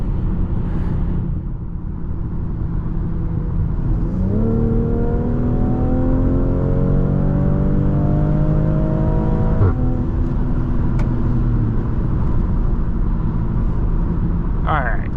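A BMW X3 M40i with its B58 engine in sport mode accelerates hard, the revs climbing steadily in a rising, droning pitch before a shift and renewed pull, loud and close throughout with no talk.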